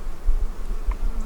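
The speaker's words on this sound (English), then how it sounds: "Quite a few bees." Honeybees buzz around an open hive during a farm-yard inspection for hive beetles, a low steady hum lasting about a second with no voices over it.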